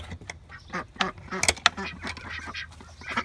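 Ducks on a small farm quack in a lively cluster of close, overlapping calls, with a faint voice mixed in.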